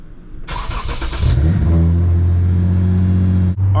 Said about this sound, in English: let's do a cold start and then we're heading out of here.